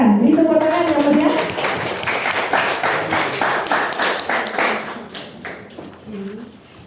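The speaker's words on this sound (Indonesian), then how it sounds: "Beri tepuk tangan yang meriah." An audience at a Yakult Indonesia health seminar clapping, a clear rhythmic patter of hands starting under a voice and then fading out gradually over several seconds.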